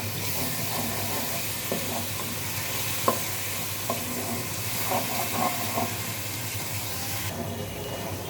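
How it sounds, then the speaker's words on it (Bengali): Ground turmeric, coriander and cumin fry in oil for khichuri, a continuous soft sizzle with scattered stirring scrapes and taps against the pot, no one speaking. "এই দেখুন মশলাটা ভাজা হয়ে আসছে, তেল উঠে গেছে।"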